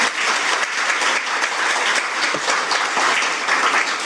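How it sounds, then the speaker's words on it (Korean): An audience at an emergency-medicine debate forum applauds after attendees are thanked, loud, dense clapping from many people sustained evenly for several seconds with no voices over it. "참석해 주신 모든 분들께 큰 박수 부탁드립니다."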